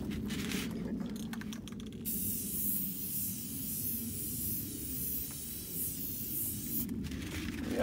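Spray paint hissing steadily from a can onto a wall while a camouflage pattern is freehanded, a loud continuous close spray broken by one brief pause near the start and another near the end.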